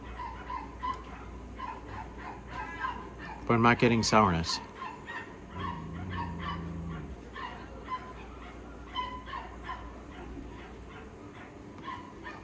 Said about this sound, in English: there's another dog barking